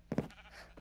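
Minecraft sheep bleating in the video game, a short pair of quick, close bleats followed by a fainter third, brief and fairly quiet.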